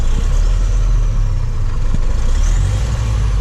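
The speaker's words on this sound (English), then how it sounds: "rev it up for us a little bit" MAN truck engine with a clutch problem, running loud and close in a deep rumbling drone that holds steady with a slight rise in revs, no voices over it.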